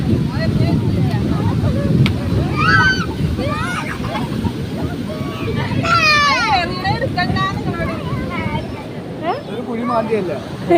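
Rough surf and wind roar continuously, with sea waves surging onto a beachside road while several people talk and call out over the noise.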